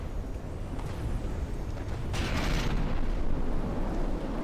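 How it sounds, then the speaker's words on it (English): Explosion in the From the Depths video game: a rumbling, noisy blast swells in over steady mechanical background and peaks with a bright burst midway, then rolls on as a loud, continuous boom-like roar. "That was an explosion."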